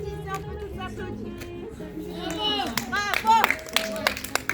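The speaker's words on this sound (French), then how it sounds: "Et on peut tous applaudir." A group claps together at the close of a group movement exercise session, a burst of hands that swells over a voice speaking, with scattered sharp claps toward the end.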